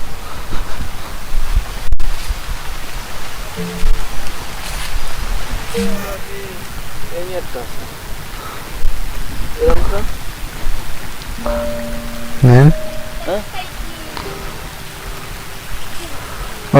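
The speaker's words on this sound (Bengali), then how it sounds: "আষাঢ় শ্রাবণ মাসে মুসলধারে বৃষ্টি হয় এখানে হচ্ছে" Heavy monsoon rain pours down in a village, a constant wash of falling water under intermittent voices and a few brief tonal calls and knocks.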